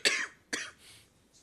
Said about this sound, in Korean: 제가 조금 기침을 해도 양해를 해주시고